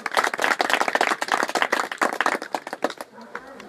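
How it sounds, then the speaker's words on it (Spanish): A church congregation gives a strong round of applause, with sharp, close and loud hand claps in a fast, uneven rhythm that thins out and fades near the end. "Un fuerte aplauso, amados hermanos."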